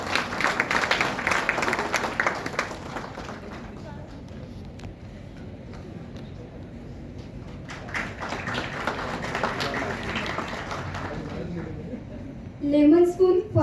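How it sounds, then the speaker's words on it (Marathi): Audience clapping for prize winners at a hospital Nurse Day event, a broad wash of applause that is loudest at the start, thins in the middle, then swells again, with crowd murmur underneath and brief tapping near the end. "कृपया टाळ्या वाजवून त्यांचं स्वागत करावे."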